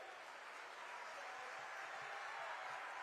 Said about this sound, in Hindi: जोरदार तालियां पीछे से बजनी चाहिए